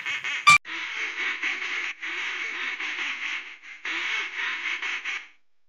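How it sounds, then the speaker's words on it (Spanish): Ducks on a farm in Soria, Spain, quack loudly and continuously in a close flock, with a brief sharp knock near the start and a short lull before the chorus resumes and ends abruptly. "El pato es un animal acuático."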